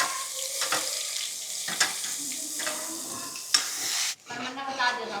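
Ginger, garlic and onion paste hitting a hot pan in a village kitchen, a bright sizzling hiss broken by stirring scrapes and knocks, briefly dropping out near the end before resuming.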